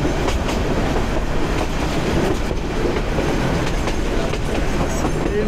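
A Balaka commuter train runs on rails near Bhawal, Gazipur, giving a loud continuous rumble with rhythmic clickety-clack of wheels over joints and a faint squeal, heard close from on board.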